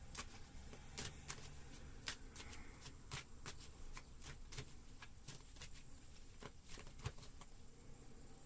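Tarot cards shuffled by hand in a steady, continuous riffle of soft papery slaps and flicks, close and quiet, with no speech.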